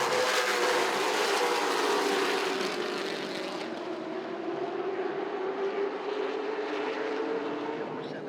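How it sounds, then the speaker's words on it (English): A late model race car engine on a speedway with steep banking refires and accelerates, a loud rising engine roar held steady over several seconds, with crowd and track noise around it. "His car, after releasing the brake, rolls down the hill, refires,"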